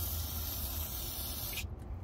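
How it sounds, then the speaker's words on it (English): Brake parts cleaner sprayed from an aerosol can onto small 49cc scooter parts, a steady close hiss lasting over a second and a half, then cutting off abruptly. "So we got our brake parts cleaner, and we call this Niagara Falls in a can, and go ahead and spray each part."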